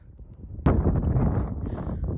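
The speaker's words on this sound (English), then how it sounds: "it's windy as a bitch up here" Strong wind buffets the microphone high up outdoors in a loud, roaring rush that starts abruptly and keeps blowing steadily, with low rumbling gusts throughout.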